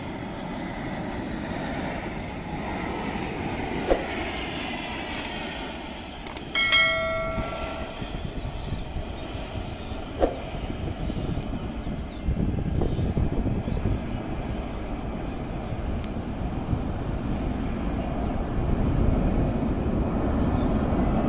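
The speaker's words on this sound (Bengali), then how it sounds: "প্রথমবারের মতো চমৎকার দৃশ্য ধারণের মাধ্যমে আপনাদেরকে দেখাচ্ছি এই বিমানটি অবতরণ করার।" An airplane approaches and lands at Dhaka airport near Uttara, a broad, continuous roar rising and swelling over about twenty seconds, heard from some distance with a few sharp background clanks.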